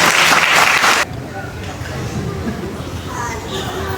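A crowd gathered in a bus garage for a communal fast-breaking event bursts into brief, loud applause for about a second, then cuts off abruptly into murmuring chatter and children's voices.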